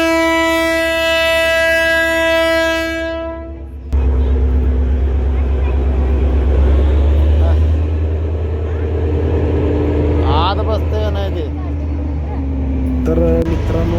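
A train passes at a small railway station with a steady heavy rumble of wheels and carriages, a long horn blast at the start, then clanking and squeals as the cars roll by close and loud.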